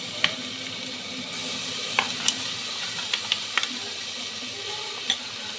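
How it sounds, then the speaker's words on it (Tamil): Onion, tomato and ginger-garlic paste sauté in a pan for chicken biryani, giving a steady close sizzle and hiss broken by several sharp clicks and scrapes of stirring, with no voices. "தக்காளி நல்லா வதக்கணுன்னே இஞ்சி பூண்டு பேஸ்ட்டு போட்டுறேன்"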